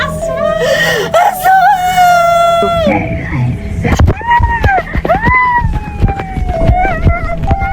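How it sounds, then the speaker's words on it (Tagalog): Distressed, wailing cries and whimpering screams rise and fall in several long drawn-out voices, fairly close, amid scuffling background noise. "Bakit may sumisigaw?"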